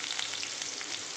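Green chillies and curry leaves sizzle in hot oil, a brief, dense, steady crackling hiss close up with no pauses.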